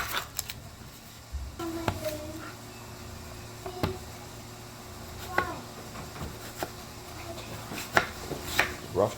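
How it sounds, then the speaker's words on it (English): Knife dicing half a white onion on a cutting board in a kitchen, giving sharp, separate chopping taps spread unevenly through the stretch, close and fairly quiet over a low background hum. "I'm gonna dice up half this white onion"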